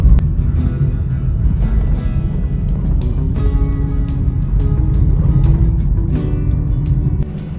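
A Honda City sedan drives a mountain road, giving a steady loud cabin rumble of engine and road noise with faint clicks and rattles throughout and no talking.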